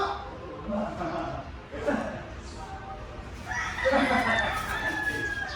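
A rooster crows several times close by, with chickens clucking around it, while people talk and laugh in the background.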